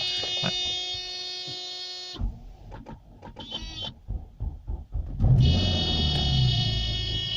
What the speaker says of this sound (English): Got the nice little buzzer from the 80s.